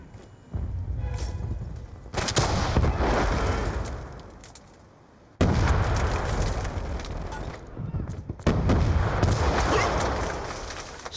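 Gunfire and RPG blasts in a first-person shooter firefight at a plaza, loud dense bursts and booming thuds in several long waves, with shouting voices over the top.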